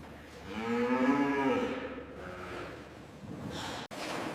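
A Hereford bull lets out one long, deep, resonant moo up close, tapering into a breathy lower call, followed by a snort or huff amid indoor factory background noise.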